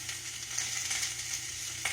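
Chopped cabbage and half an onion sizzle as they stir fry in a pan without added water, a soft, steady crackle and hiss with an occasional light scrape of stirring, no talking.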